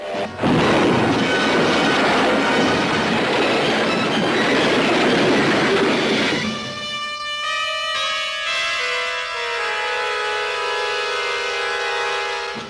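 A train passes close by with a loud, heavy rumble, then its wheels squeal in sustained, high metallic tones as it rolls on.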